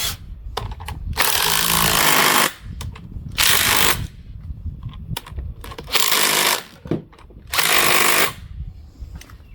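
Bolts being tightened back down on a car differential after a one-wheel burnout: four loud bursts of rattling power-tool or ratchet noise, separated by quieter clicks and handling sounds.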